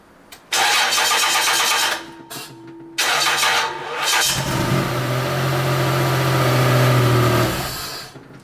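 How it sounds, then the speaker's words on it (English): A car engine is cranked with a Bocoor unit clamped to the car battery: two loud, close bursts of cranking, then the engine catches and settles into a steady running hum. "let us start the car."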